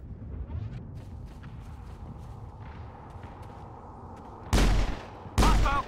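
Two loud, close pistol shots ring out near the end in Mass Effect, following a stretch of low rumbling ambience and faint scattered clicks.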